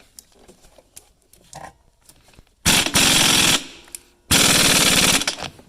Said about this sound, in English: Now you can use your impact gun.